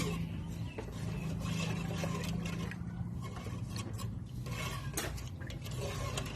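Sour curry with snakehead fish and moringa is stirred in a pot, with a steady simmering bubble and intermittent scraping and clinking of a utensil against the pot, close by.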